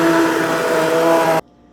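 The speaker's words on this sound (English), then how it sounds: "And immersion blend everything until it's silky smooth." Immersion blender running steadily in a pot of hot shrimp bisque, a loud continuous whir with a tonal hum that cuts off abruptly near the end.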